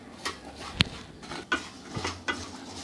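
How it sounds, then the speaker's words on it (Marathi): Peanuts roasting in a pan are stirred with a utensil, giving a few sharp scraping clinks against the metal, spaced irregularly and fairly faint. "आता मी अशाच पद्धतीने त्याला हलवत राहणार आहे मध्ये मध्ये"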